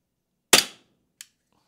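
A VFC G19 airsoft pistol fires through a chronograph: one sharp, loud snap followed by a short decay, then a second, fainter click about a second later, with no talk.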